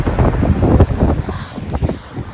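Ocean waves surge and break along a stormy Iceland coast, a close, rumbling wash under steady gusts of wind buffeting the microphone.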